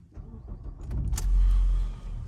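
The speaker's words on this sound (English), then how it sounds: "Let me go ahead and start the car." A 2013 Ford Focus engine cranks and catches, building into a low, close rumble that settles into idle after a brief click and whir.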